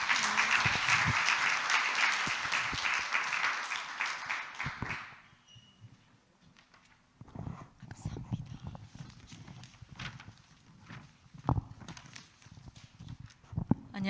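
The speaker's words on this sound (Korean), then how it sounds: "박수 한번 쳐주시겠습니까, 어머니들?" Church congregation applauds for mothers coming forward to give testimony at a worship service, a dense, sustained clapping that fades after about five seconds into quieter room sounds and shuffling.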